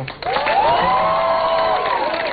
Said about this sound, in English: But a round of applause again for.